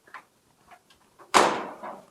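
Driver's door of a 1932 Ford five-window coupe with its original latch: a few light clicks and rattles, then one loud close with a metallic bang that rings out briefly, then a smaller knock. Close by, with no talking.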